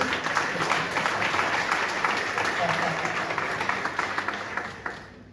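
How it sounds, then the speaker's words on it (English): An audience claps at a lunch event, a steady round of applause lasting several seconds and slowly fading out. "A round of applause, please."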